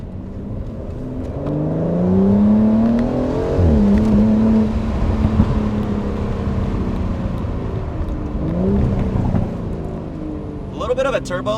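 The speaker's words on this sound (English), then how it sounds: "A little bit of a turbo lag, but when that turbos kick in, man, that V12 really opens up" A 2020 Aston Martin DBS Superleggera twin-turbo V12 with dual-clutch transmission accelerating: engine tone climbs steadily, drops at a shift and climbs again, heard from the cabin with moderate steady loudness.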